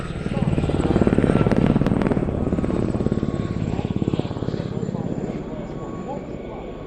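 Several Gazelle helicopters fly overhead in diamond formation at the Shuttleworth Fly Navy airshow, a loud rhythmic rotor chop and turbine whine swelling then fading, with a commentator talking over it.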